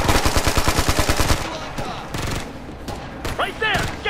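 Rapid automatic gunfire rattles loudly in the video game Ghost Recon Future Soldier during a Norwegian Sea mission, a fast burst that gives way to scattered shots and shouted squad voices.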